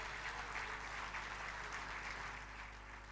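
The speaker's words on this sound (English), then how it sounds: "So let us give a big round of applause." An audience claps steadily at the Bharat Asmita National Award ceremony. The applause is soft and somewhat distant, an even wash of clapping with no speech over it.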